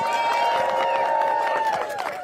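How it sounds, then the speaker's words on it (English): A crowd at a clean energy rally in Annapolis, Maryland applauds and cheers in a dense continuous roar that stays loud for the whole stretch, with voices mixed into the ovation. "Can we give another round of applause for our fighters here in Annapolis?"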